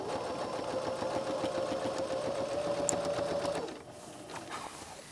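A sewing machine stitching a blouse collar runs steadily at a fast, even rhythm for about three and a half seconds, then stops, leaving faint handling noises with no talking.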